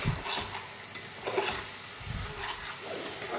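Spice paste frying in a pan for a pangas fish curry, a soft continuous sizzle with quiet scraping stirs at intervals, close by and alone.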